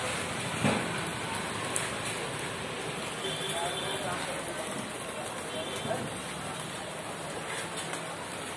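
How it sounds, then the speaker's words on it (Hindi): Rain falling in Delhi, a steady hiss of drops on surfaces with a few nearby taps and thumps, moderately faint and continuous. "बारिश दिल्ली में।"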